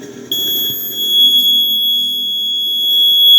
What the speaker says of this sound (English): When water touches simultaneously these two probes, the light starts glowing and the buzzer will beep.